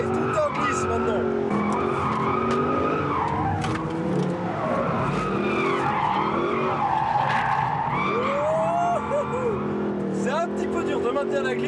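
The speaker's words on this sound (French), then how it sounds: "On place la voiture et tout en glisse maintenant." A sporty car slides and drifts on a race circuit, its tires squealing in long, wavering howls over a constant engine roar, with someone talking throughout.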